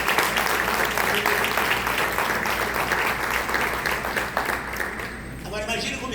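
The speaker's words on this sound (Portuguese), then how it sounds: "Pode se aplaudir bem alto." A church congregation claps loudly and steadily, a dense wall of applause filling the room for several seconds before tapering off as a voice begins over it.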